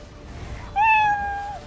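A single clear cat meow, close and fairly loud, rising then holding a steady tone for under a second against faint background noise.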